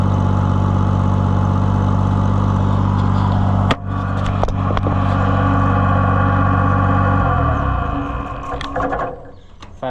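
A 1650 tractor engine idles loudly and steadily after carburetor and timing adjustments, with a couple of sharp knocks, then slows and runs down unevenly as it diesels near the end.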